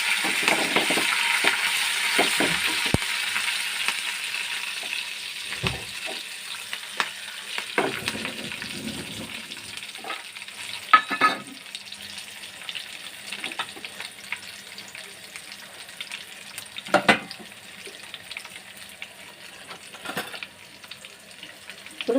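A tempering of garlic and curry leaves fries in oil with a steady close sizzle, broken by occasional clinks and scrapes of stirring, and no talking.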